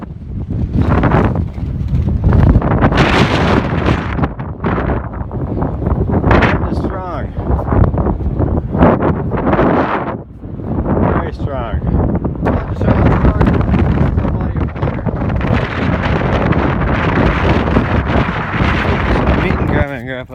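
Strong, heavy wind roars across an outdoor microphone in a wooded area, a loud, constant buffeting that barely lets up through the whole stretch.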